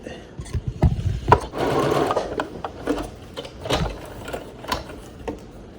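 Sewing machine stitching fabric for a handmade Halloween decoration head, running in short bursts with mechanical clatter and rattling, close and moderately loud, no talk.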